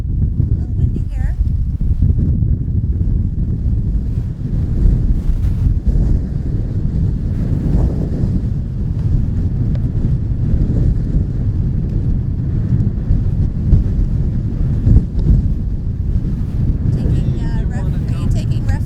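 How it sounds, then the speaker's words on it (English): Strong wind buffets the microphone steadily at an oceanside lookout point in February, a constant roaring rush with low gusty rumble throughout and no clear speech. "A little windy here."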